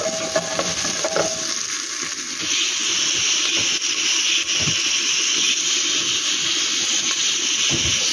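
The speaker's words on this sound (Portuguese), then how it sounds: "Assim que dourar a cebola, eu coloco o alho" Onion and garlic fry in a pressure cooker pot with a loud, continuous hissing sizzle, joined early on by a few scraping stirs, and no one speaking over it.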